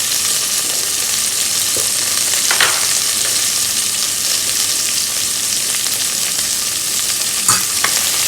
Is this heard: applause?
no